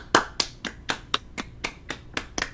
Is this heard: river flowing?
no